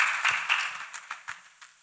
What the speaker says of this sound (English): Clap your hands for Master Jesus